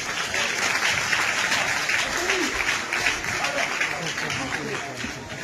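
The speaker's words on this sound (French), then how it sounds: "on peut l'applaudir s'il vous plaît" Steady audience applause at a stage hypnosis show, a full, continuous clapping from a crowd with a few voices calling out beneath it.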